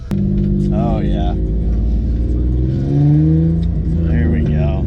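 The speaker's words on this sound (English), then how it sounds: "We're gonna take it around the block real quick and see how it does." A BMW engine with a freshly swapped M50 intake manifold revs and accelerates as the car is driven around the block, the engine pitch rising and falling in loud pulls while people talk inside.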